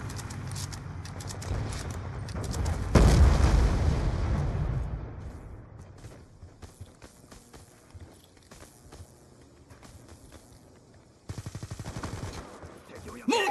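Gunfire from a sniper round in Call of Duty Black Ops II on the Slums map, a loud sharp burst with a long rumbling tail followed by scattered quieter battle noises and a second burst near the end.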